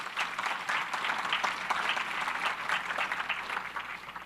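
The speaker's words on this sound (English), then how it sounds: "let's give them a round of applause" A conference audience gives a sustained round of applause, dense steady clapping from many hands filling the room evenly throughout.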